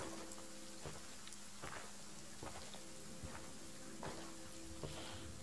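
Rain falls steadily in the horror video game Visage as a soft, constant patter, with scattered faint taps and drips over a low hum.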